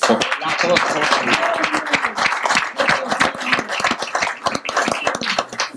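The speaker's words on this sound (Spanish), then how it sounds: "Para Rudy me gustaría otro aplauso." Audience at a political gathering in Constanza applauds with sharp, dense clapping that fills the whole stretch, fairly loud and close, with a voice faintly underneath.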